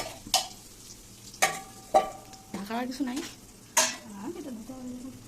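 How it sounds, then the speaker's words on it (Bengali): Potatoes fry in a pan in a home kitchen, a low steady sizzle under sharp clinks of a utensil against the pan, with people talking nearby. "ওখানে আলু ভাজা হচ্ছে"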